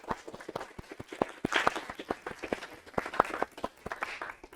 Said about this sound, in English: Clap it up for all the people still sitting here in the room.